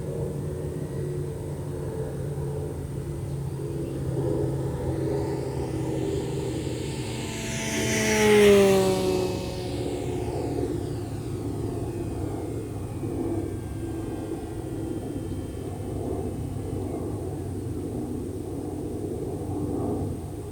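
An E-Flite P-51D Mustang 1.0m model airplane at full throttle swells into a loud, whining flyby over a steady background hum, peaking near the middle of the pass before fading away.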